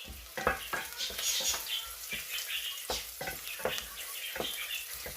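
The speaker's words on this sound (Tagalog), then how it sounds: "So next is that the garlic, and then I'm already adding the ginger" Garlic and fresh ginger frying in a pot for chicken soup, a crackling sizzle broken by repeated scraping and stirring scrapes, close and moderately loud.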